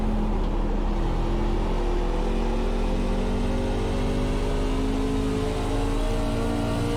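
A NASCAR truck races at Richmond in the iRacing simulator, its engine droning loudly and continuously with rising and falling pitch as it speeds around the track, alone without talk.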